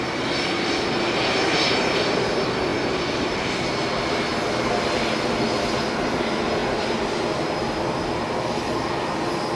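Garuda Indonesia's airliner in Pikachu Pokemon livery passes at Haneda, its jet engines a loud, continuous roar with no pauses.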